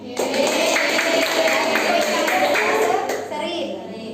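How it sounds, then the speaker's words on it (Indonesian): A classroom of children claps together for Group A during a gamified lesson, a brief, dense round of applause close by with young voices mixed in, fading near the end. "Tepuk tangan untuk kelompok A."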